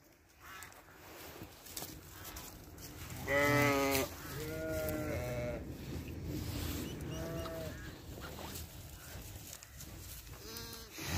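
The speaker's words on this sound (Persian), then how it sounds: "همش گوسفندای سوریه." Syrian sheep bleat repeatedly in a flock, several wavering calls rising over a continuous background murmur of livestock and outdoor noise, some close and others farther off.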